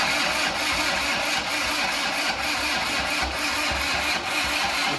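A car engine on a jump start during an off-road outing, sounding as a steady mid-pitched mechanical whir with a rhythmic pulsing, loud and close, with no talk over it.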